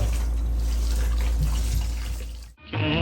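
Water runs steadily as Jeerakasala rice is washed in a sink, a close, continuous splashing stream that cuts off briefly near the end before resuming with brighter trickling.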